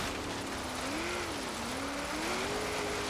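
A 2002 Chevrolet Corvette Z06 engine drones steadily and loud on a timed hill climb run, its pitch dipping and rising as it changes into fourth gear, with a constant roar and wind noise throughout.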